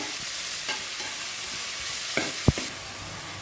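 Tomatoes and onions sautéing in a pan for sambar, a continuous close sizzle broken by several short scrapes and one sharper knock of a spoon against the pan.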